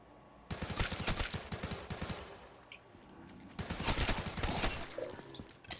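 Rapid automatic gunfire in Call of Duty Black Ops 3 zombies on the remastered Nacht der Untoten map, two long bursts of fast repeating shots separated by a short pause, loud and close with no talking.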